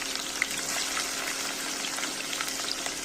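Hot oil frying ingredients for biryani in a home kitchen in Kashmir, a dense, steady crackling sizzle with small pops scattered throughout, close and continuous, no one speaking.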